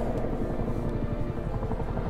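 A helicopter approaches in the video game Man of Medan, its rotor thumping in a loud, fast, steady rhythm over a deep drone. The sound comes through clearly and close, with no voices.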